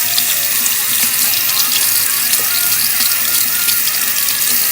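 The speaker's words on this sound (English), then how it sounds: "first what you're going to want to do is turn on the hot water, make sure it's hot" Hot water pours steadily from a tap into a bowl, a loud, continuous splashing rush close by with no speech.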